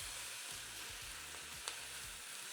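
A currywurst bratwurst sizzles steadily in a hot pot, a faint, continuous frying hiss with a low repeating rumble beneath it and a single small tap, with no voices.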